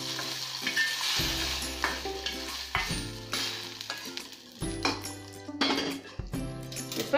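Hot tempering hits a ground tomato and onion chutney, bringing bursts of loud sizzling with spoon clinks and pan scrapes in irregular rounds, close up and without voices.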